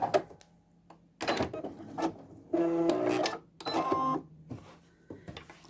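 A sewing machine runs in short bursts as it stitches a straight line along a seam guide, its mechanical whirring starting and stopping several times up close with clicks between runs and no talking.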